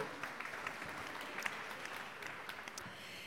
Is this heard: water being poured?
no